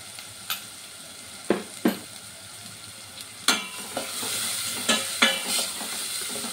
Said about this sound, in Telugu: బాగా ఆనియన్, అల్లం వెల్లుల్లి పేస్ట్ బాగా వేగనివ్వాలండి, పచ్చివాసన పోయే వరకు